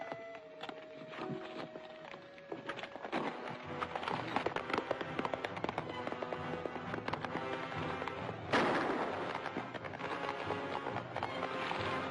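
Gunshots ring out during a shootout in an old black-and-white western, mixed with galloping horse hooves and a loud orchestral score that swells throughout, with one sharp burst standing out near the end.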